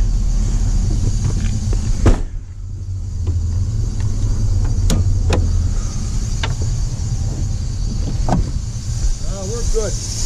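A Dodge Ram truck engine idles steadily with the hood open, a continuous low rumble close by, broken by a few clicks and clanks and a brief drop near the start.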